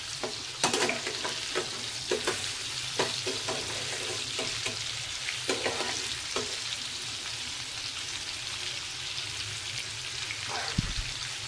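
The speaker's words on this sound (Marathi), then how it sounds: "अशा प्रकारे आपण 5 मिनिटं एका बाजूने हे फ्राय होऊन देणार आहोत बारीक गॅसवरती।" Vaam fish frying in a pan on a low flame, a continuous close sizzle with bursts of crackling and a few clicks and clatters, busier early on and steadier later.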